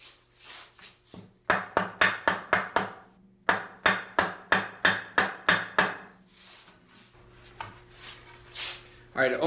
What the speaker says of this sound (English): I think if I hammer this home, it'll go in.